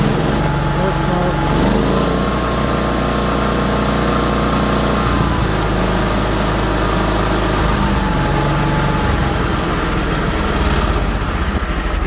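Simplicity 7112 garden tractor with a 42-inch snowthrower, its small engine idling loud and close in a steady, even drone with a slight shift in pitch midway.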